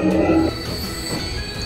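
A train running in the video game Transport Fever, a steady rumbling rail sound with a brief higher squeal at the start, heard alone at moderate loudness.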